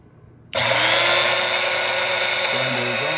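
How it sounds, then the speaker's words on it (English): A Breville 450XL coffee grinder switches on abruptly and runs with a loud, steady whirring drone, its pitch dipping briefly near the end. "Grinder is on."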